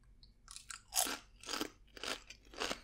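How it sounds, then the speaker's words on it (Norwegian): Sørlandschips potato chips with hockeypulver liquorice flavour are crunched close to the mouth, giving about five distinct crisp bites and chews at an irregular pace, each loud and crackly against a quiet background. "når jeg tar og knasket i chipsen"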